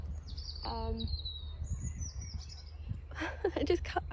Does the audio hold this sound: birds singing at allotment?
yes